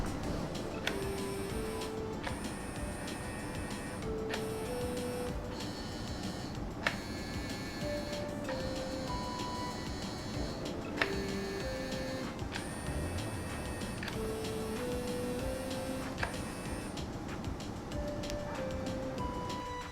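Power side mirror motor mechanism on a 1st gen Scion xB, removed with the mirror glass off, whirring in repeated short bursts with brief stops between runs, quiet and close, for about twenty seconds.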